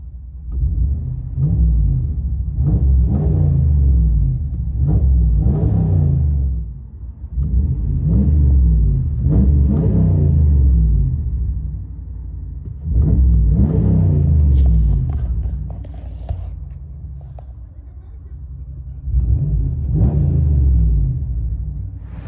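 A deep, rumbling 5.7L HEMI V8 exhaust of a 2015 Ram 1500 with a Dynomax Race Bullet and resonator delete, heard from inside the cab, surging in several long revving pulls with brief settling lulls between them.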